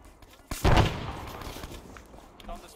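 A single sharp burst of gunfire in a video game rings out close and loud, then decays into a reverberant tail with faint rustle afterward.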